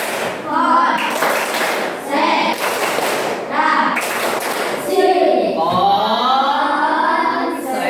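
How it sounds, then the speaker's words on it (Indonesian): A classroom of students performs a rhythmic concentration clapping routine, bursts of claps in a patterned sequence with voices chanting along in between. "Tepuk konsentrasi."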